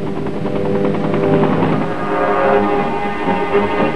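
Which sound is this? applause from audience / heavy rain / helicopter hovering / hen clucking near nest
helicopter hovering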